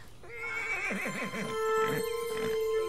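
A wild horse in an animated fantasy series lets out a long, wavering whinny that rises and trembles before settling into a steady, sustained neigh, clear and alone.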